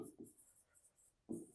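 A marker writes quickly on a board in a finance lesson, with a few short, faint scratchy strokes in close succession and a soft voice murmuring briefly near the end.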